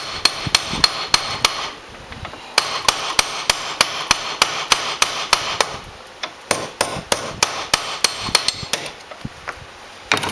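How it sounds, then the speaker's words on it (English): Rapid metallic hammering, a planishing hammer striking sheet metal for a finger gauntlet in steady rhythmic bursts with brief pauses, loud and close. "Actually, the planishing hammer works a little better."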